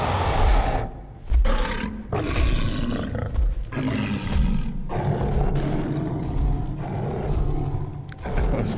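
A monster in Final Fantasy XV lets out loud, lion-like roars, several long bellowing bursts with brief gaps between them, filling the scene up close with heavy growling rumble.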